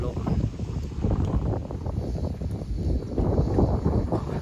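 Dry wind gusts outdoors on a rural Thai garden plot, buffeting the microphone in a continuous low rumble that swells and eases over a few seconds.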